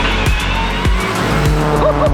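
A rally car's engine roars and drops repeatedly as it slides on gravel, with loud gear-shift bursts and a short tire squeal near the end.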